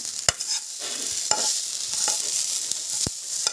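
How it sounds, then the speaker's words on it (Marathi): Moth beans for matki usal roasting in hot oil in a pan, a steady bright sizzle punctuated by several sharp spoon knocks and stirring scrapes, close up and without talk. "तीन मिनटं तेलात भाजून घ्या"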